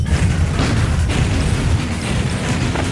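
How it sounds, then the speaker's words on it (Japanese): A loud, sustained rumbling explosion in the arcade game Outfoxies, with crackling debris filling the whole stretch, dense and close, no voices. "こうして再び爆発が起きる"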